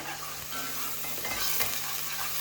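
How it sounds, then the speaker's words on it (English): Onions sweating in a little oil for spaghetti bolognese sizzle steadily in a pan, with a utensil stirring and scraping through them at close range, no voices over the continuous frying hiss. "we're sweating up our onions with a little bit of oil"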